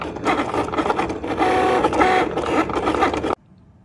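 A print-and-cut cutting machine runs steadily as it cuts paper into strips, a loud mechanical whirring and buzzing that stops abruptly near the end, leaving quiet.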